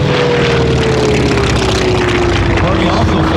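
A propeller aircraft makes a low pass at an airshow, its loud engine drone steady and close with a slowly falling pitch as it goes by, and a commentator talks over it.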